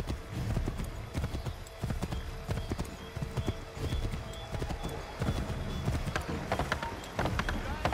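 Hooves clip-clop steadily at a gallop for a horse ridden through Assassin's Creed III, a continuous rhythmic pounding with occasional faint whinnies and background game ambience.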